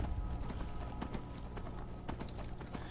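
Fast, rhythmic hoofbeats of a galloping horse in Skyrim pound steadily throughout, close and continuous against a busy background.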